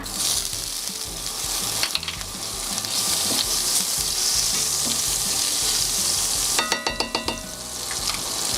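Butter sizzling in a hot frying pan coated with oil, a bright, steady hiss with crackles and occasional scraping or stirring taps, loud and close, with a burst of sharp popping near the end.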